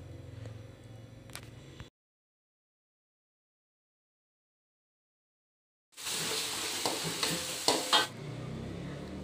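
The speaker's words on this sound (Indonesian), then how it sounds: "masak sambalnya harus sampai matang ya guys kalau nggak dia langu" Sambal chili paste sizzles and is stirred in a hot pan, broken by a long stretch of silence before the frying resumes louder, with scraping clinks near the end.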